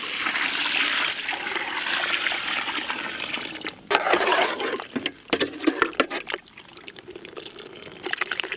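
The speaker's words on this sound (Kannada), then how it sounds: "ಬೋಟಿ ಬೇಯಕ್ಕೆ ನೀರು," Water is poured into a cooking pot over mutton boti with rock salt and turmeric powder. It starts as a steady, close rushing pour, then breaks into splashy gurgles and trickles as the flow tapers off.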